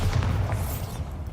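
A Bombarda spell in Hogwarts Legacy lands with a low booming thump that starts at once and fades into a soft, lingering rumble.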